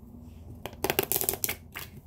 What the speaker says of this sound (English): Let's see if I can shuffle them all.